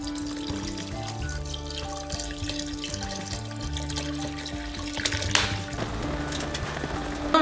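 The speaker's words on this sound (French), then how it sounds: "Nous allons rajouter de l'eau." Water runs steadily into a cooking pot for a homemade barley mash, a continuous close pouring and trickling that grows a little louder near the end, heard alone.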